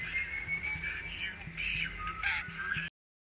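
A thin, wavering whistle carries steadily over a low rhythmic thumping, with faint bird-like chirps around it, moderately quiet throughout.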